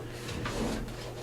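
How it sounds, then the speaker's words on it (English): A desk drawer slides open in a crafting room, one short, quiet scrape and rumble lasting about a second, heard alone without talking. "I'm going to open my drawer here."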